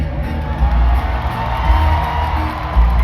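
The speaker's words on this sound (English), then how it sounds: "A round of applause for the gentleman." Crowd cheering and clapping at a Fan Expo stage event in Toronto, a steady, dense roar of noise filling about three seconds.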